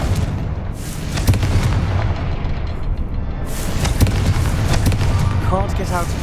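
Repeated Confringo fire spell blasts in the Hogwarts Legacy video game, loud booming bursts over a constant rumbling game soundtrack, with a few sharp impacts and chirping effects near the end.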